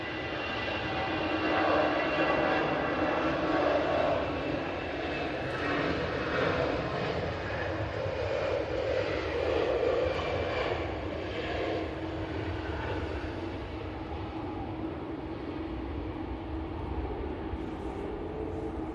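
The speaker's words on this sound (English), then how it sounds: "Lufthansa heading back to Frankfurt." A Lufthansa jet airliner departing for Frankfurt sends out a sustained, moderately loud engine roar that swells early and then eases off slightly, with no one talking over it.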